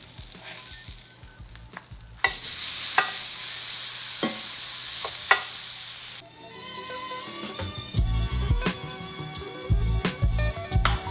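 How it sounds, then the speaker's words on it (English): Salmon laid skin side down in a hot skillet bursts into a loud, bright sizzle that drops to a softer crackle, followed by utensil scrapes and thumps as the fish is shifted. "we're just gonna place our salmon skin side down into our hot skillet"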